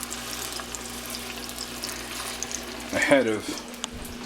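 Pork chops sizzle in a hot pan with a steady, close frying hiss throughout, and a voice speaks briefly near the end.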